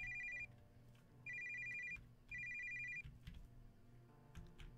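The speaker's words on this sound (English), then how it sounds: "Now his phone's ringing." A smartphone in the video game Sofia rings out in three bright electronic bursts about a second apart, clear over a low ambient hum, with no one talking.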